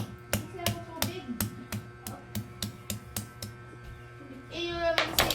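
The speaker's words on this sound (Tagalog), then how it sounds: "Dinikdik lang natin yung luya, dinikdik." Ginger being pounded, a series of about a dozen sharp, evenly spaced thuds close by, with a brief clatter near the end.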